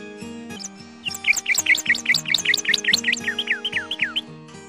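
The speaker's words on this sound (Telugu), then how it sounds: "magpie" A magpie gives a quick run of bright, repeated chirps, loud and close, over soft background music.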